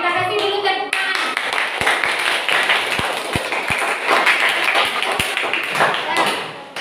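A classroom of students claps hands together in a busy, continuous patter with a few sharper individual taps standing out, fairly close and steady throughout.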